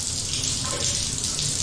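A shower tap in a campervan runs with a steady, close hiss of spraying water, continuous and even throughout with no voices.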